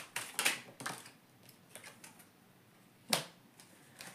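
A tarot card drawn from a deck: quiet, sharp papery flicks and taps, a cluster early on and another crisp snap near the end, with soft shuffling between and no voices.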